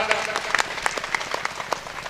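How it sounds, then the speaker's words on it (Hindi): A crowd at a political rally in Kaushambi district claps to welcome someone. The applause is steady and scattered with sharp individual claps, moderately loud and continuing for about two seconds. "खड़ा हो जाए भाई, जोरदार ताली बजा के उनका स्वागत करा।"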